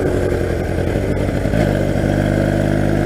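A 1982 Honda 250cc flat track motorcycle engine idles up close, loud and steady with an uneven, lumpy pulse that settles into a more regular beat partway through.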